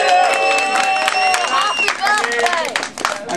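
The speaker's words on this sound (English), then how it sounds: "Can we have a big round of applause for Lincoln's 50th birthday?" An audience at a children's talent show, celebrating a 50th birthday, cheers loudly with whoops and scattered clapping, the excited voices crowding close and bright before dipping briefly near the end.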